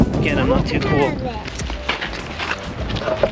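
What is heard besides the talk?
wind blowing into the microphone outdoors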